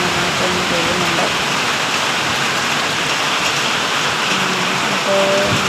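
Heavy rain pours down in a loud, continuous hiss, with faint voices just audible beneath the downpour.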